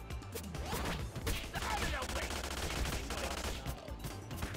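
Rapid bursts of gunfire from the TMNT Shredder's Revenge survival mode pack a dense, loud barrage with no break, mixed with crashing impacts and game clatter.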